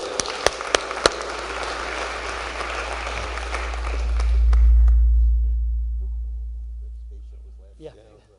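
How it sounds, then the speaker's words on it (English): Audience applause at an evening panel event, a dense sustained clatter of clapping that swells and then fades out over several seconds, with a low steady hum beneath. "A really big round of applause for Dan."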